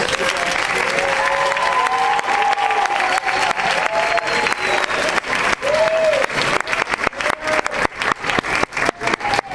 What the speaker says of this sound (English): Natasha a huge round of applause.